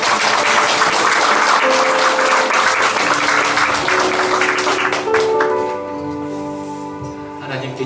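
Congregation applauding during a Christmas church service, a loud sustained wash of clapping that tapers off over its last seconds while organ or keyboard tones sound faintly beneath.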